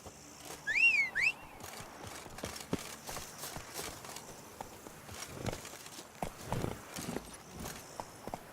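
Roach, Geralt's horse in The Witcher video game, clops along with a run of hoofbeats, some close and sharp and others softer. A short high whistle-like call sounds early on.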